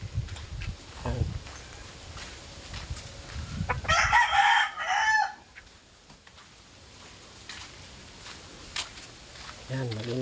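Chickens cluck and a rooster crows loudly in a small backyard coop, a bright crow standing out midway over steady clucking, with someone talking on and off in the background.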